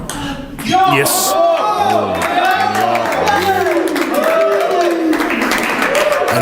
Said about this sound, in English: you can hear the atmosphere in the hall now. Everyone cheering